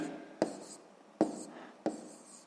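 A pen writes out a math solution on paper with three short, sharp scratching strokes, each trailing off into soft rubbing, close and quiet, with no one talking.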